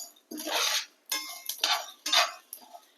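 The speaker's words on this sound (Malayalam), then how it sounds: "1 സ്പൂണ് കുരുമുളക്, ഒരു സ്പൂണ് ജീരകം, എല്ലാം കൂടെ ഇട്ടിട്ട് ഒന്ന് വറുത്ത്" Lentils, black pepper and cumin are dry roasted in a pan, heard as five or six short, close scraping and stirring strokes of a spoon against the pan, separated by brief pauses, with no talking.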